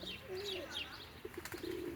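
Young pigeons coo in low, drawn-out murmurs with brief chirps, and a few soft flutters of flapping wings come through near the end, fairly close and steady against a light outdoor background.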